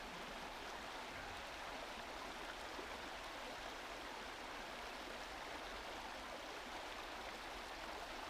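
Steady rushing of a river at a backpacking crossing on Big Brushy Creek, continuous broadband water noise close by, unchanging and without talk.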